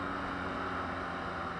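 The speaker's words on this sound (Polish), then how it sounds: "bardzo fajnie słychać dźwięk silnika" A BMW R NineT boxer motorcycle engine drones steadily at cruising speed, a continuous deep, even rumble with rushing wind noise and no pauses.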